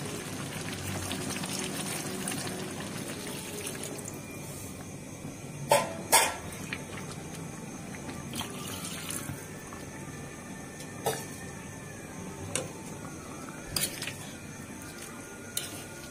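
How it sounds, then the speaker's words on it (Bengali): Ghugni cooked with goat fat bubbles in a small wok after water is added, a steady close simmering hiss broken by occasional sharp clinks and taps of a utensil against the pan. "দেখো বেশ ফুটতে শুরু করে দিয়েছে"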